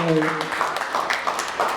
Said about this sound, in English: Please, a round of applause for this.